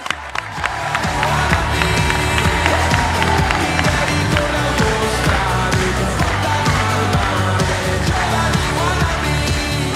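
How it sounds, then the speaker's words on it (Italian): A crowd at a summer youth program presentation applauds and cheers loudly to welcome a priest director onto the stage, with sustained dense clapping, whoops and crowd noise after a brief quiet start, under a musical backdrop. "accogliamo con un forte applauso il nostro direttore Don Emanuele"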